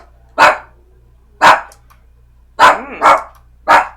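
Dogs bark in five sharp, close bursts, two alone early on, then three in quick succession, with no talk over them.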